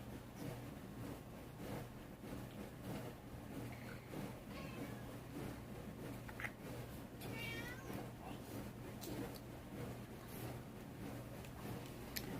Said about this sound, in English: Don't mind the cat, y'all.